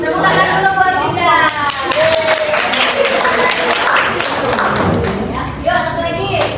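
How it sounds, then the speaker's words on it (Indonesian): Applause breaks out in a junior high school classroom for a student, a burst of clapping and thumps in the middle with a teacher's voice speaking before and after it. "Tepuk tangan dulu buat Adinda."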